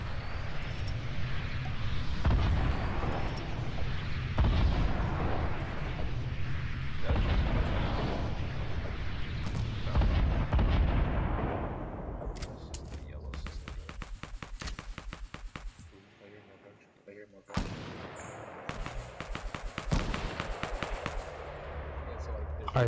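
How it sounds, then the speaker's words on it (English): Rockets and submachine gun fire in a squad-based shooter video game, rapid bursts of automatic fire with heavy blasts, dense and loud throughout, thinning to sharper scattered shots near the end, with voices talking under the gunfire. "they're shooting rockets"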